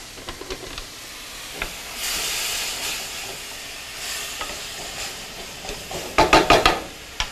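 Meat sizzling and hissing in a pan after alcohol is added off the flame, a steady fry with some stirring, ending in a louder burst of crackling spatter near the end.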